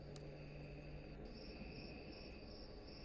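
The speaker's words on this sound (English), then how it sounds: "Love me some cicadas, yo." Cicadas drone in a continuous high-pitched chorus in the video game Tokyo Dark, steady and fairly faint under a low background hum, with no talking.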